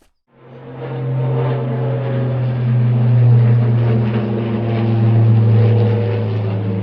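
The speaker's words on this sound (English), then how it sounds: "that's a big" A large drone passes over a river during morning crayfish fishing, giving a loud, steady droning hum that rises in and holds throughout, with no talk.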